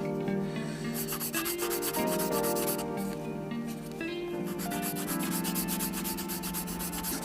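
Sandpaper rubs over model putty on a small-scale Tamiya 1/35 Type 10 tank model, a soft continuous scratching close by with repeated strokes and faint background tones.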